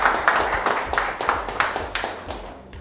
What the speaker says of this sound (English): a big round of applause for these guys